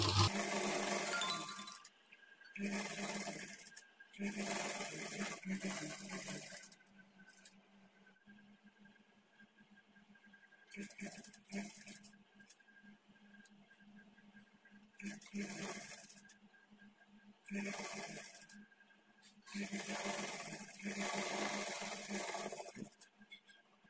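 A sewing machine stitches a plain blouse in repeated short bursts of whirring, several runs separated by pauses, each one fairly close and clear against a quiet room.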